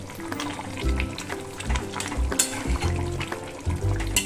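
Katla fish pieces slide into a thin simmering Bengali curry with bottle gourd, potato and mustard stems, bringing soft bubbling and sizzling plus a few low clunks of the pan and spoon, close and with no voices.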